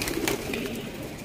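Pigeons of the Plosur breed cooing softly nearby, a short low burbling coo under steady background noise.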